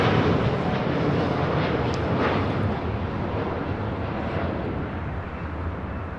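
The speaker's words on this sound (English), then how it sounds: "603 taking off to Santiago on a 787-9 Dreamliner" A LATAM Airlines Boeing 787-9 Dreamliner takes off at Los Angeles International Airport with a loud, broad, continuous jet roar that sounds fairly close and slowly eases in level.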